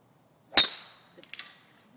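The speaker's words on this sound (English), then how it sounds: "Here we have Glenn hitting a golf ball." A golf club strikes a golf ball in one sharp, loud crack on an outdoor range, followed by a short ringing tail and a couple of faint softer knocks, with no talking.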